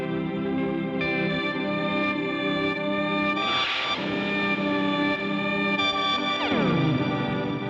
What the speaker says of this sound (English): I've got one plugged into Onward and then the other plugged into my Mood Mark II